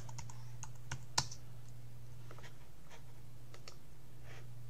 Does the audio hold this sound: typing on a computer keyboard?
yes